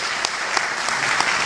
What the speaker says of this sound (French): il faut applaudir aussi vos enseignants